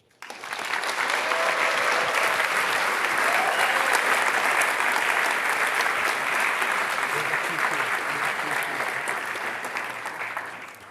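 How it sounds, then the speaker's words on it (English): An audience in a room applauds after game presentations at a university game lab event, a dense sustained wash of clapping that swells quickly and holds for about ten seconds before tapering off. "So lots of cheering in the room here."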